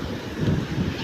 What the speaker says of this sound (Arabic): في سحب عالي في الشط، الجو هوا والموج عالي